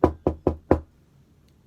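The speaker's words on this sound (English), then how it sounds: "there was a knock at the door." Four firm knocks at a door in quick, even succession, close and distinct, followed by quiet.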